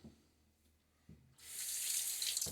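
After a couple of faint knocks, water from a tap starts running steadily into a sink as a razor is rinsed between shaving passes, close and fairly loud, with no talking.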